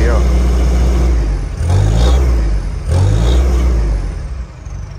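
A 2007 Ford F250 XLT with a Cummins four-cylinder diesel and a small three-inch straight exhaust revs twice, each loud rise climbing and holding briefly at the limiter before falling back to a rumbling idle.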